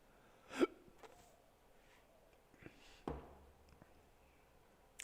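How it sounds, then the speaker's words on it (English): A man hiccups indoors. There is one sharp, close hiccup early on, then a second fainter one a few seconds later, over low background noise. "I got the hiccups."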